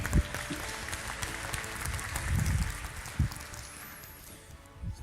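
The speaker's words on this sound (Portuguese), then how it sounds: "Uma salva de palmas." A conference audience applauds steadily in a large hall, a moderate, fairly distant wash of many hands clapping that holds throughout with no talking over it.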